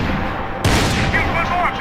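Gunfire in the video game Max Payne 3, a dense burst of loud, close shots erupting midway over a steady rumble of game noise, with a voice briefly shouting.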